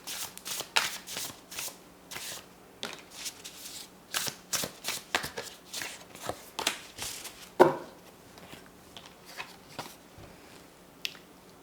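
Tarot cards being shuffled by hand, a string of quick riffling bursts and soft slaps at close range, irregular in rhythm, with a few brief pauses and no talk.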